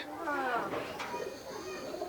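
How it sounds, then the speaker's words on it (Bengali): A prized magnet pigeon coos in a few soft, rolling notes, close but faint, with a person talking over it. "এইটা হচ্ছে আমার সব থেকে গরমের ম্যাগনেট পায়রা"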